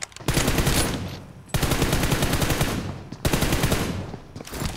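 Three long bursts of rapid automatic gunfire from a machine gun in the PUBG Mobile video game, loud and close, separated by brief pauses.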